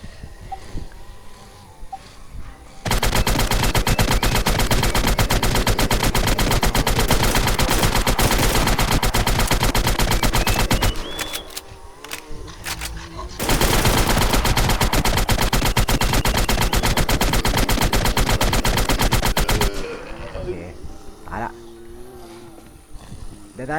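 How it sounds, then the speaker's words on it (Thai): Rapid bursts of automatic gunfire blast a boss in the video game Warz, two long dense volleys of about eight and six seconds separated by a brief pause, with quieter game sounds before and after. "เดี๋ยวเรายิงบอสให้แป๊บนึง"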